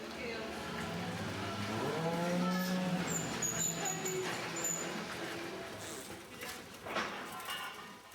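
Dairy cows moo on a farm, low drawn-out calls rising and falling at a moderate distance, with a person talking over them and faint clatter in the background.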